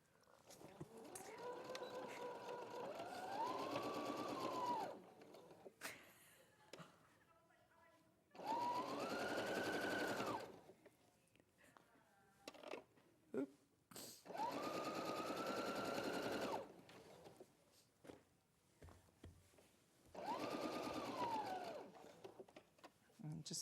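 A domestic sewing machine stitches a shirt sleeve in four steady whirring bursts of a few seconds each, close and loud, separated by pauses in which people talk.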